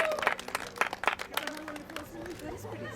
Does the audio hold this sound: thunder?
no